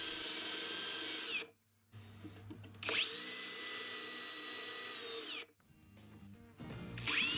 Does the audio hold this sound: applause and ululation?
no